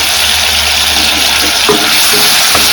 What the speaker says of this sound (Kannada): ಇವಾಗ ಏನು ಶುಂಠಿ ಬೆಳ್ಳುಳ್ಳಿ ಪೇಸ್ಟ್ ಏನಿದೆಯಲ್ಲ, ಸೊ ಇದನ್ನು ಆ್ಯಡ್ ಮಾಡ್ಕೊಳ್ತಾ ಇದ್ದೀನಿ